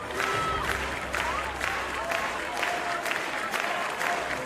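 Athletics stadium crowd applauding during a heptathlon high jump competition in Tampere, broad rolling clapping with small swells and a few cheers, continuous and fairly distant.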